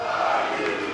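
Rugby supporters at an Aviron Bayonnais squad presentation let out a brief, loud, low collective growl, a crowd roar lasting about a second.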